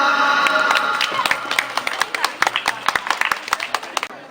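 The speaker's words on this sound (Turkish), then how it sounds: "bize bir alkışlayalım mı?" An audience claps at a festive gathering, starting as a dense wash and breaking into sharp, separate claps that fall into a loose rhythm before stopping. Voices murmur underneath.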